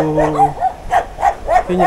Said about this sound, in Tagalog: Dami pang aso. Ayan. Ayan sila mga aso.